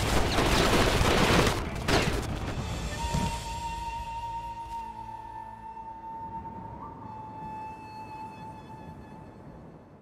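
Artillery gunfire in the video game Sengoku Basara: Samurai Heroes, a dense booming volley at the start that fades into a long ringing tail with a sustained tone, loud and without voices.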